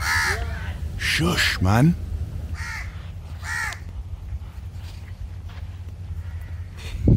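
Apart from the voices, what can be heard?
birds calling noisily, crows cawing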